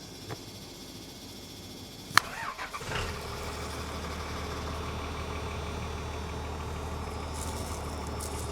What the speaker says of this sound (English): Cranking their truck.